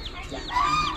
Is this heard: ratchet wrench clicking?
no